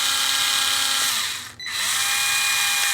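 A Worx 4V three-speed cordless screwdriver runs on its medium setting, a steady high-pitched motor whine that briefly dips and cuts out mid-clip before spinning back up, close and alone with no talk.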